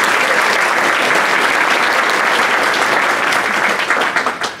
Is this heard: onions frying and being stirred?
no